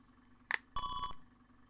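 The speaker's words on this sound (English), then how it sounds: "Phone rings again." A video game phone gives a short electronic ring: a brief bright chirp, then a longer buzzing tone lasting about a third of a second, clear against near silence.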